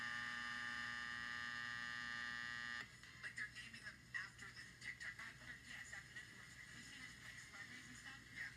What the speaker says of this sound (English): This alarm clock radio sound was once again working.